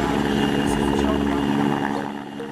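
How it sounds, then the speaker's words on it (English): A search and rescue helicopter sounds as a loud, continuous rotor thrum with a steady low beat and engine whine, holding strong before easing slightly near the end while a narrator speaks over it. "Search and rescue helicopter."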